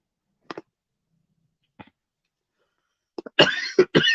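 A person coughs: a few soft isolated coughs spaced apart, then a louder, rougher cluster of coughing and throat clearing close to the microphone.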